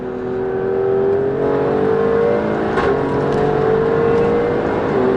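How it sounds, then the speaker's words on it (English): An Alfa Romeo Stelvio Quadrifoglio SUV engine revs steadily after a manual downshift into second gear on the road, giving a loud, continuous, slowly rising drone heard from inside the cabin, with no talking. "I'm going to put it into manual gear change selection, drop it down into second, and straight away"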